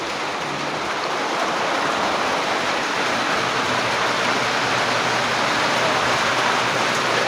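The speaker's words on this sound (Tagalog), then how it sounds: "Ayan, lumakas na naman yung ulan." Heavy rain pours down in a steady, dense roar that holds even throughout, loud and close, with no voices.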